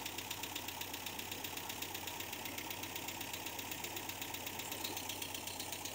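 An MGB's electric blower motor, wired straight to the fuse box, runs with a steady faint hum and a fast, even ticking pulse, continuous and alone with no talking.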